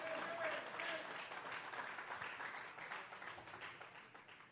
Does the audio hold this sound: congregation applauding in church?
yes